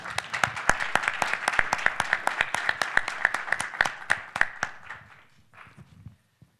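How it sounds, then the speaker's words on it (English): An audience gives a round of applause for a manufacturing round-table panel, with crisp, close claps in a steady rhythm that thin out and fade away over several seconds. "Could we please give them a round of applause?"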